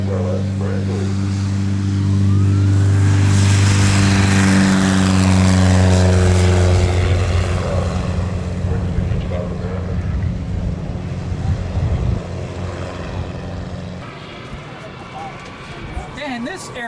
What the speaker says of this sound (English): There's a very simple little airplane. It's called the Cheetah by Rainbow Aircraft,